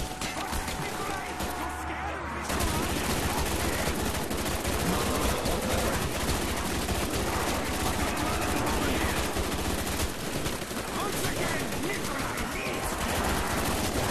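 Relentless automatic gunfire from Call of Duty Black Ops Zombies on the Verrückt map, rapid loud bursts hammering almost nonstop, with voices talking under the shooting.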